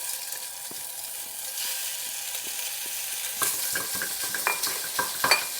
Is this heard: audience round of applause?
no